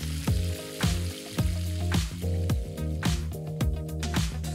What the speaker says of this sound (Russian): Просушиваем мясо на салфетке и на сковородку.